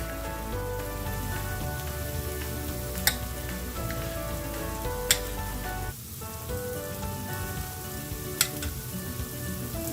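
Pieces of beef tongue fry in a pan for a Goan roast, giving a steady, dense sizzle with scattered sharp pops and crackles throughout, and no voices.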